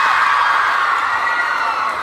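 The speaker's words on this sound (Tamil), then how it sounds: "மாணவிகளின் கைத்தட்டலால் 2 நிமிடம் அரங்கமே அதிர்ந்தது" Female students cheer and applaud loudly in a Puducherry college hall, a dense, continuous roar of shrill voices that holds steady without pause from start to finish.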